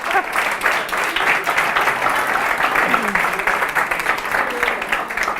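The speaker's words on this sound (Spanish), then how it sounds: "Un aplauso para Juanjo en su papel de..." Audience applause for Juanjo after he plays a role during a public-speaking event, dense steady clapping sustained loud and even throughout, with faint voices underneath.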